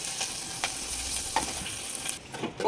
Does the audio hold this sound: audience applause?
no